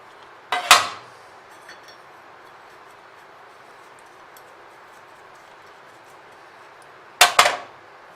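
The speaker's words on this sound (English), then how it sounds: "Just going to grease each one and put them in there to warm up." Metal egg rings set down onto a greased pizza tin used as a griddle, giving two short clattering metallic clinks, one near the start and one near the end, with quiet room hiss between.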